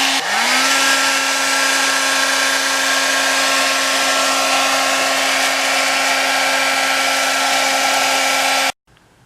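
A heat gun warms masking tape laid over week-old fresh paint during custom water-slide decal work on a Kawasaki H1. It gives a loud, steady blowing whine that starts abruptly, holds unchanged for about eight seconds, then cuts off.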